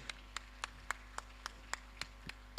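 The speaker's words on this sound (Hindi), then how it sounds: "तालियों की आवाज लगातार चलना चाहिए।" Clapping at a religious discourse by Muni Pramansagar ji Maharaj in Dhanbad, Jharkhand, comes as about nine even, evenly spaced claps. They are faint against a steady low electrical hum.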